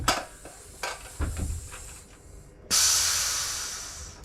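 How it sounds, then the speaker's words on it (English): Gas released from a beer keg during cleaning, a sudden loud, steady hiss that starts partway through after a few clanks and knocks of metal, then fades gradually. "release the gas"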